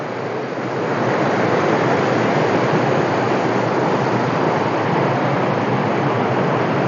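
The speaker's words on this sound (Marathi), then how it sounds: "आणि पाणी आता किती जोराने वाहत आहे." Strong monsoon river current rushing past a temple in the Walan Kondi area, a loud, steady, broadband roar of turbulent water filling the whole stretch with no pauses and no voices.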